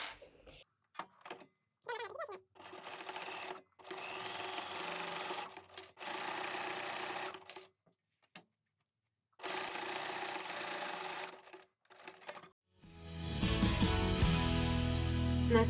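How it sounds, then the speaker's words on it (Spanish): A sewing machine stitches sequin fabric with a titanium needle in several bursts of rapid, close mechanical chatter separated by short pauses. Louder handling noise follows at the end. "Con las lentejuelas hacia arriba vamos a coser"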